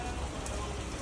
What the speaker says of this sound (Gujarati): વરસાદ બહુ પડે છે